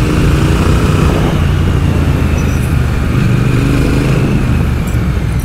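A Triumph Speed Twin motorcycle engine runs loud and close in road mode, a continuous throbbing drone holding steady throughout without a break, with wind rush mixed in and no voices.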